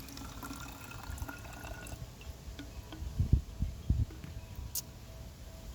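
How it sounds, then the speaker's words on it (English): Half a cup of water poured from a measuring cup into a bottle, a quiet trickle and a few faint splashing glugs near the middle over soft background hiss. "You're going to go ahead and pour that into the bottle."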